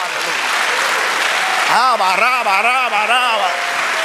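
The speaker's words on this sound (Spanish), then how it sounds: "Dale un aplauso al Señor." Congregation applauding during a church sermon, dense clapping that continues while a voice calls out and sings over it in the second half.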